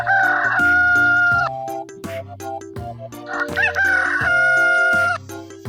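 A cartoon rooster crows cock-a-doodle-doo twice, loud and drawn out, with a children's song playing steadily beneath the calls.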